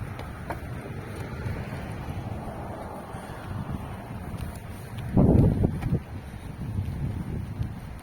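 Steady autumn wind rumbles and buffets the microphone outdoors while cycling in Poltava, with a louder gust-like burst partway through and no talking.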